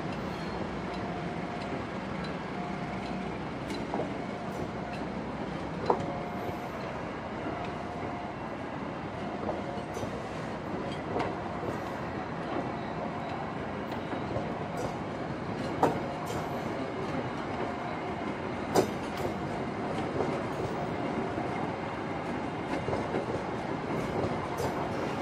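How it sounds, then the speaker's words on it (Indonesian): A KA Cikuray passenger train departs track 3 at Nagreg station: a steady, loud, broadband rumble of rolling rail wagons that lasts throughout, with a few sharp clanks and knocks rising above it. "KA Cikuray sudah diberangkatkan dari jalur 3 stasiun Nagreg ya."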